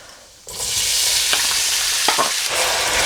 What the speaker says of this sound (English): we're going to add the onions in, and we're going to fry them until they're golden brown in colour